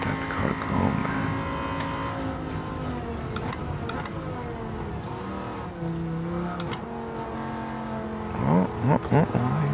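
Race car engine in the Gran Turismo 7 video game, played on PSVR2, droning steadily and shifting pitch as it accelerates down a straight, with brief harsher bursts near the end.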